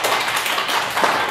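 Pupils in a first-grade maths classroom clap for two classmates: a brief, dense patter of many small hands, close and lively, lasting about a second.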